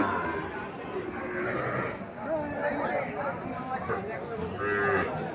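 Several Sahiwal calves moo and bleat amid a busy crowd of talking voices at a cattle market in Comilla, Bangladesh, with livestock shuffling and market chatter filling the scene.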